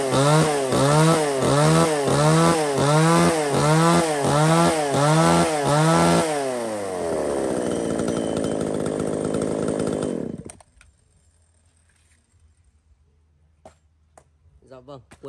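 A used Japanese-market chainsaw is started for a test run, its two-stroke engine rising and falling in about a dozen rhythmic revs before settling to an idle and cutting off, with a voice briefly afterward.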